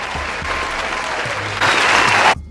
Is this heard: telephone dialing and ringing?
no